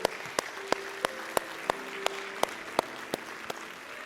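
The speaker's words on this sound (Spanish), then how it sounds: "dale un fuerte aplauso a Él" Applause from a church congregation fills a worship space as a steady, even patter of many hands, accented by regular sharp rhythmic claps roughly every third of a second, likely keeping time with music, with a faint sustained tone beneath.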